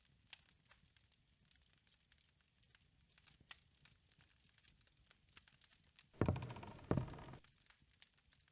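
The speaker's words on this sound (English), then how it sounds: "That fire effect. Very cozy." Fire effect in The Journeyman Project 2: Buried in Time: a faint, steady crackle with soft knocks, then a brief, louder rushing flare of flame before it settles back to a low hiss.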